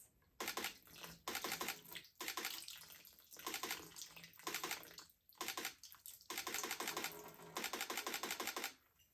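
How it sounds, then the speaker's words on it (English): Water is poured onto flowers for a splash photography shoot, producing bursts of splashing and trickling in several pours separated by short pauses, close and fairly soft. "I'm gonna be pouring right here. I want to get lots of splashes."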